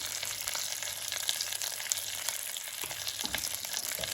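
Onions and bay leaves fry in a pot for slow-cooked pork belly, giving a continuous close sizzle with small crackles and occasional stirring.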